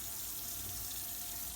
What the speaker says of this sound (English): Then you rinse this sponge